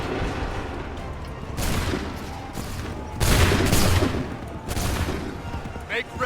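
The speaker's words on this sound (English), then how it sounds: "Fire now!" Musket volleys crash out in Assassin's Creed III, several loud rolling bursts of massed gunfire a second or two apart, with shouted commands between them.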